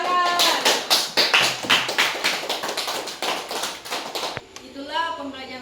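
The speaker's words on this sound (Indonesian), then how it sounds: "Tepuk tangan." Children in a primary school classroom clap their hands in a quick rhythmic pattern of sharp claps, with young voices chanting along, ending in a short pause before talk resumes.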